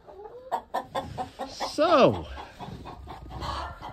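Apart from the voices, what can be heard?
roosters and chickens clucking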